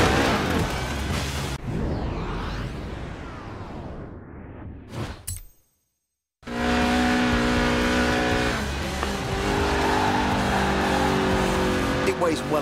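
A Lotus Elise Sport 190 in Forza Horizon 4, a lightweight car with a 1.8-litre engine revving to 8,000 RPM, roars loudly with rising revs and tyre noise, cuts out briefly, then returns as a sustained high engine drone.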